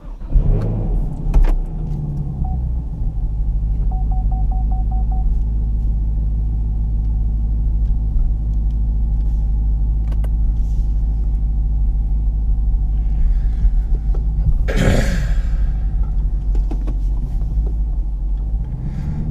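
A car rolls along the road with a steady, loud engine and tire rumble throughout, a brief rising whoosh near the end, and no talk.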